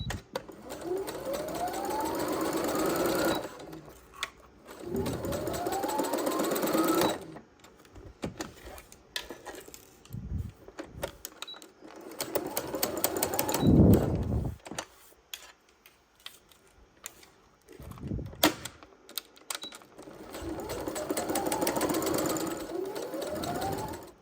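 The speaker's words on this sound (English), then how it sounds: "where my needle can go when I'm sewing my boning into the dress" A sewing machine stitching boning casing into a dress runs in several bursts of rapid, whirring needle strokes separated by pauses and handling clicks, close and fairly loud, without talking.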